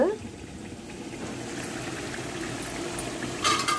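Tamarind pulp for pulihora simmering in a pot on a stove, giving a steady, close bubbling and hissing wash with a brief louder spurt near the end.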